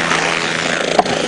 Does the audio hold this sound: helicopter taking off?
yes